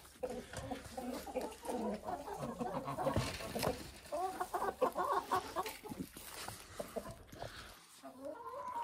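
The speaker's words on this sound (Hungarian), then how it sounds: "megpróbáljuk megfogni a tyúkot, hogyha tudom" A hen on a farm clucks repeatedly in soft, busy bursts, fairly close, with some rustling and a brief quieter pause near the end.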